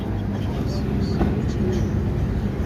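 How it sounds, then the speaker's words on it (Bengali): A local train pulls out of Sealdah station, giving a steady low rumble and rolling clatter with faint squeals; a voice speaks over it. "একদম রাইট টাইমে আমাদের ট্রেন ছেড়ে বেরিয়ে যাচ্ছে শিয়ালদা থেকে"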